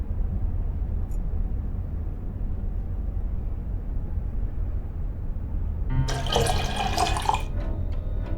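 Distilled water pouring into a stop bath dish in Black Mirror II: a quiet hum for most of the stretch, then a brief, bright splashing pour lasting about a second and a half near the end.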